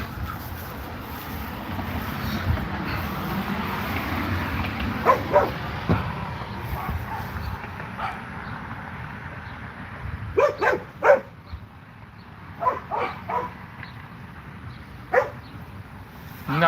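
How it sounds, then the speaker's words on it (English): A big dog barks outdoors in scattered bursts, some single and some in quick clusters of two or three, fairly distant against steady wind noise and a low rumble. "Oh, we got a big dog."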